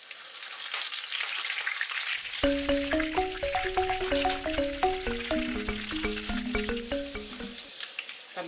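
Basil leaves fry in hot oil with a steady, close sizzle that continues under a plucked melodic music track.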